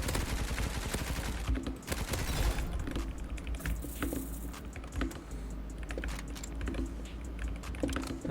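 Rapid gunfire crackles through a Roblox first-person shooter match, dense bursts of quick shots at fairly low volume over a steady background hum.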